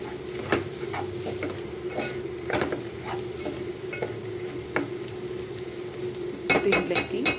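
Fried vegetables for veg pulao are stirred in a pan after turmeric and coriander powder go in. A sizzle runs beneath repeated scraping strokes, ending in a quick burst of clattering stirs, with no voices.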